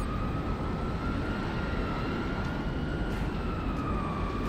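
Airplane in flight in the video game Crysis Remastered, a steady droning engine hum with a faint high whine running continuously at an even level.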